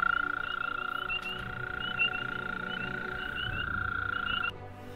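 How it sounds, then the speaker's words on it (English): Green frog croaking at a pool, a close, loud, steady run of rapid trilling calls that holds for several seconds before stopping abruptly, with no voices. "There is a beautiful, it looks like it's a green frog."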